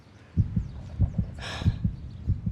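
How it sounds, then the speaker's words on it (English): A slow, steady heartbeat thumps in soft low pairs, lub-dub repeated about four times, with a brief breathy rustle in the middle. "you hear my heartbeat?"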